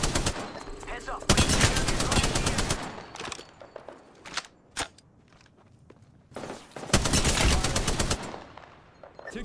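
Automatic gunfire from an Apex Legends battle, long loud bursts near the start and end with scattered single shots and footsteps between, close and dominant.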